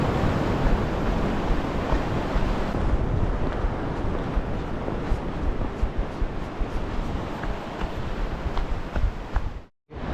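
Ocean waves washing at the coast near Mulki, India, a constant broad roar of surf with wind buffeting the microphone, ending in a brief cutout.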